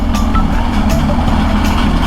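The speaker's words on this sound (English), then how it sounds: "Not to mention this huge truck." A huge truck rumbles past a motorcycle on a winter road, a loud, steady low roar close by with wind buffeting over it.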